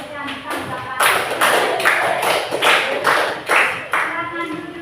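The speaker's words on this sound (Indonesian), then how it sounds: "kita tepuk tangan buat ketiga teman yang memberikan tanggapan" Classmates in a classroom give a short round of clapping for three students, brisk, close and loud for a few seconds, with a few voices mixed in.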